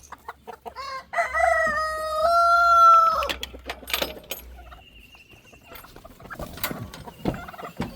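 A rooster crows loudly nearby, followed by assorted clucks and scattered calls from several chickens.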